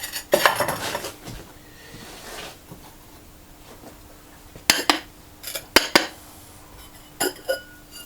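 Celadon-glazed ceramic cereal bowls taken from a kiln knock together, bright clinks and clatters in scattered bursts, close by, with quiet pauses between handlings.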